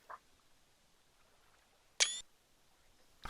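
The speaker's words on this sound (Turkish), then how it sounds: "Fotoğraf çekiyorum ben ya." A single sharp camera-shutter click from taking a photo in the hunting game theHunter: Call of the Wild, crisp and close, standing alone against a quiet background with a faint tap just before it.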